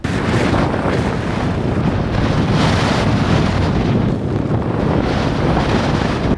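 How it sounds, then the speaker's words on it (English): Fierce blizzard wind pounds a van in an icy parking lot in Vadsø during a polar vortex storm, a loud, continuous roaring rush that buffets the microphone without a break, with no voices. "I found my camp and the wind is fierce."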